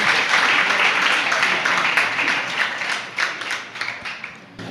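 Audience applause at a Jain religious discourse, dense sustained clapping from a crowd filling the whole stretch, loud and close, thinning slightly toward the end.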